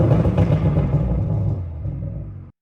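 A 2020 Toyota Supra MK5 tuned through EcuTek and fitted with a Boost Logic exhaust revs loudly and close, a deep rumbling burst that holds for about two seconds before cutting off abruptly.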